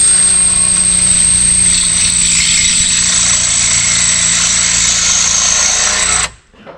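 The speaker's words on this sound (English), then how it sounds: "now we just need to drill this hole in this other side" Power drill boring a hole through steel for a RoadMaster tow bar mount on a toad vehicle towed by a 2005 American Eagle motorhome, a loud steady whine held for about six seconds before cutting off abruptly, no talk.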